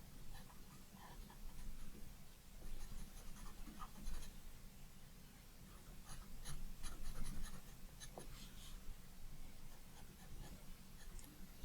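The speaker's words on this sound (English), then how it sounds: "my pencil seems a bit softer than usual." A pencil that feels softer than usual scratches steadily across paper, close up, with short strokes and pauses and a low steady hum underneath.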